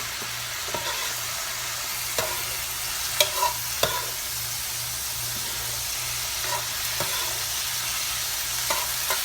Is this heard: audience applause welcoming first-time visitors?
no